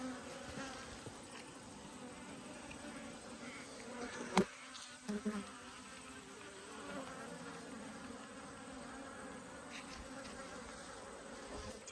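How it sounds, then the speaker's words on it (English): Honeybees buzz steadily around an open hive box, a dense, continuous drone close by with a few brief louder knocks partway through. "Plenty of bees here."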